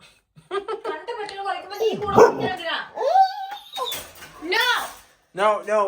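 A dog close by whines, yips and gives drawn-out, howling barks in uneven bursts, loud and agitated, with short pauses between calls.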